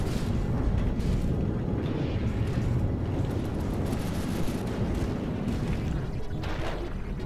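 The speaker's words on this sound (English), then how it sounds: "Explosion there." An explosion in the game From the Depths booms out in a dense, rumbling roar, with further crashes and blasts layered over a continuous low roar.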